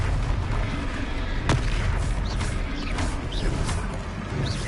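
Hogwarts Legacy fire spell blasts go off in a game battle, a sharp crack followed by muffled booms over rumbling combat noise.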